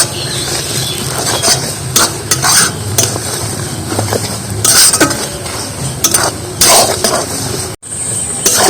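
Leaves fry in homemade hair oil over low heat, giving a close, continuous sizzle. A spoon stirs and scrapes against the pan in repeated bursts, with no voices.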